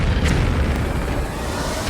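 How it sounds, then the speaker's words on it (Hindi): A bomb explosion in news footage, a loud deep rumbling boom with a heavy low-end roll that sustains and slowly settles over two seconds. "जब ये बम गिरता है तो ऐसा धमाका होता है जो"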